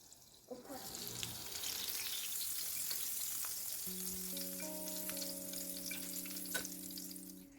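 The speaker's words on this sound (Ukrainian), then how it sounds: "Ще котлетки досмажуються" Chicken cutlets frying in a pan, a continuous close, bright sizzle with scattered crackles, joined midway by a steady sustained tone and a faint clink near the end.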